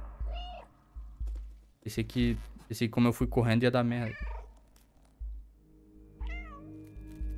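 A cat meows in the video game Stray, with a couple of clear, high meows at the start and again near the end, framed by someone talking loudly in Portuguese in between.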